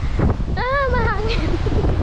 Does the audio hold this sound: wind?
yes